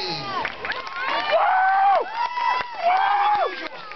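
Renaissance faire audience at a daredevil street show voting by noise, a crowd of shouts, whoops and cheers rising in swells with some clapping, fairly close and lively.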